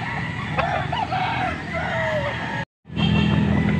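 Young gamecocks (stags) at a market, several short rising crows and clucks close by over a busy background murmur, ending after a brief dropout.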